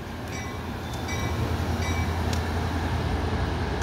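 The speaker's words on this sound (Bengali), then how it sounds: "আর ট্রেনটা হচ্ছে ডিজেল চালিত।" A double-decker diesel passenger train bound for Chicago Union Station rumbles past close by, a loud steady roar of engine and wheels with faint clickety-clack on the rails.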